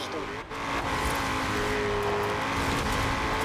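A Chevrolet Camaro in the Forza Horizon 4 video game roars steadily with engine revving and some tire noise as it launches with brief wheelspin, then gets traction and accelerates in second gear, loud and close throughout.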